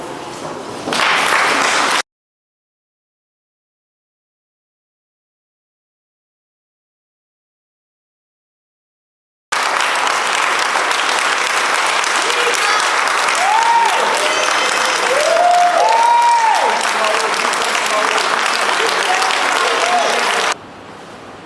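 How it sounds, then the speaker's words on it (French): Congregation applauding at a requiem mass in Accra, a loud, sustained wash of clapping that cuts out briefly to silence, then returns for about eleven seconds with faint voices and whistles rising above it. "je vous demande humblement de vous lever pour applaudir Ben Soumaro"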